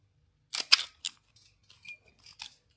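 A few sharp mechanical clicks and a ratcheting rasp close by from a Canon A-1 film camera, its shutter firing and film lever being wound, followed by softer clicks.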